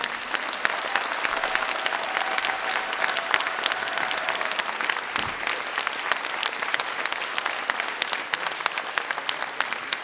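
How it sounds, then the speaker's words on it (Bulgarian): A concert audience applauds a dance club at a tenth-anniversary show, a thick continuous wash of clapping heard from within the hall, steady and moderately loud throughout. "Още веднъж аплодисменти за тях"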